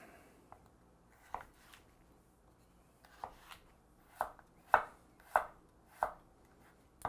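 A knife chops vegetables on a cutting board for a chicken soup frittata. Sharp, close single strokes land irregularly, a few early, then a denser run of about six cuts toward the end, with quiet gaps between.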